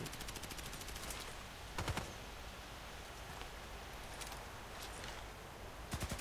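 Gunfire in the sniper game Contract Wars on the Old Sawmill 2 map: rapid bursts of distant shots, a cluster near the start and more volleys later, over a steady hiss of ambient noise.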